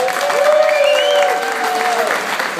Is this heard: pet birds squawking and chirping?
no